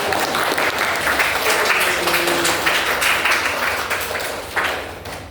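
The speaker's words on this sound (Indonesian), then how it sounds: "Beri tepuk tangan dulu." Classroom of students giving a round of applause, a dense burst of clapping that fades slightly toward the end, with no talk over it.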